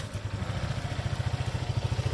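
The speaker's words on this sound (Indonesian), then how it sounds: "Oke, nyalain motor aja." A 2018 Honda PCX scooter engine ticks over at idle just after starting, with a low, even pulsing putter that holds steady and close.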